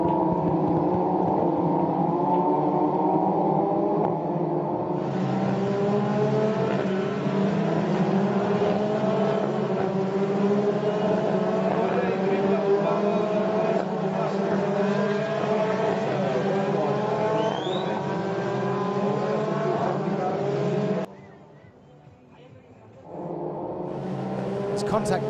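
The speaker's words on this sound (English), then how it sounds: "it's just far too many cars going in far too many directions" Race cars in a feeder series race roar past in a dense pack, engines revving and droning loudly and steadily with overlapping pitch sweeps, then cutting out abruptly near the end before the noise returns.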